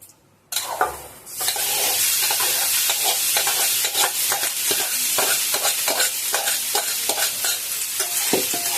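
Rice with cumin, turmeric and salt is stirred in a hot pan for jeera rice, giving a loud, close, continuous sizzle broken by repeated scraping stir strokes.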